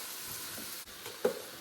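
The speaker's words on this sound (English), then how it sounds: "I'm going to saute this onion until they're soft." Onion sautéing in a pan, a quiet even sizzle with a couple of soft stirring taps and a brief clack near the end, close but faint, with no voices.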